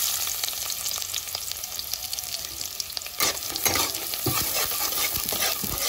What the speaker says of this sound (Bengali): এখন বিরিয়ানির জন্য বেরেস্তা ভেজে নেব